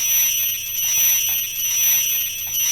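A sci-fi ship computer console sound effect, a steady high-pitched electronic tone with a slow pulsing, alarm-like swell repeating about every second, heard alone.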